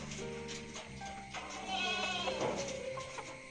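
A goat bleats on an integrated home farm in Kerala kept alongside chickens, cows and buffaloes; a few nearby wavering bleats ring out one after another over quiet ambience.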